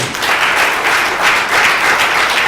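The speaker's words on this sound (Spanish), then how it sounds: "Denle un fuerte aplauso al Señor" A church congregation gives a dense, steady round of applause for the Lord, loud and continuous from start to finish with no talking.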